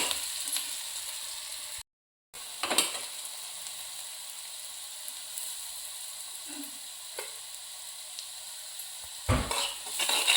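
A sweet corn upma mixture is stirred in a pan: a steady sizzle under intermittent scraping clinks of a utensil against the pan, with a brief dropout and a louder scrape near the end.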